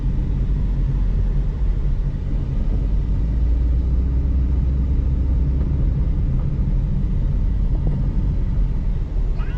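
A 2014 Proton Saga 1.3 FLX automatic on a test drive, heard from inside as a steady, loud low rumble of engine and road noise throughout, with no talking.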